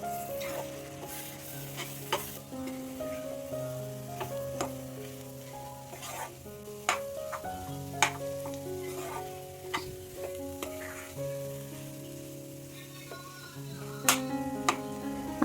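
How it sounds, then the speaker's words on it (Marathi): Besan zunka is stirred in a hot pan, with a spatula clinking and scraping in irregular taps over a soft, steady sizzle, close and moderately quiet throughout. "आता हे छान वर खाली मस्त हलवून घ्यायचं"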